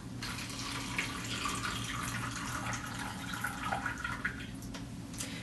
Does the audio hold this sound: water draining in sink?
yes